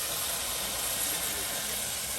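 Spices are fried down (kosha) in a pot while cooking a sehri meal aboard a Bede boat settlement in Bangladesh, heard as a steady, even sizzling hiss with no breaks.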